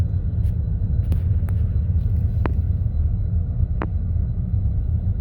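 Road traffic stalled by storm flooding near Carlsbad, New Mexico, makes a steady low engine rumble, broken by a few sharp faint clicks and knocks.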